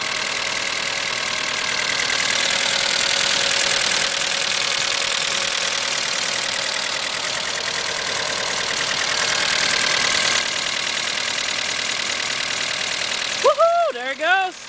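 Mitsubishi Galant VR4 engine running loudly after repair work, a steady harsh roar with a ticking edge that holds close and loud for most of the stretch before cutting off, then someone speaks briefly.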